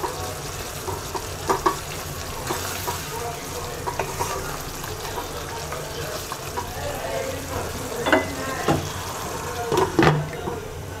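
Hilsa fish roe curry with tomato sizzles steadily in a pan while being stirred, with scattered scrapes and clinks of the spatula and a louder clatter near the end; continuous frying hiss throughout.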